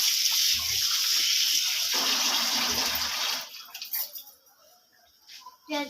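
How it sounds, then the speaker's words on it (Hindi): Rice being rinsed in water in a village kitchen, with a steady splashing and running-water wash for about three seconds that then drops to scattered small drips and clinks. "तो वो चावल धो रही है"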